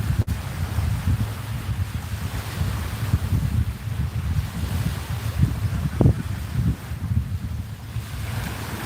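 Ocean waves washing steadily with gusting wind buffeting the microphone, a continuous low rumble of surf heard close up with no voices.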